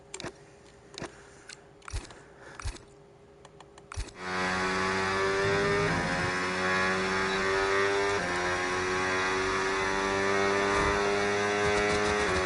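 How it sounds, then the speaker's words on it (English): An Aston Martin Formula 1 car in the F1 26 racing game at Britain: a few quiet clicks, then from about four seconds a loud, steady, high-revving engine drone that fills the rest of the clip, with no talking. "my engine sounds very healthy"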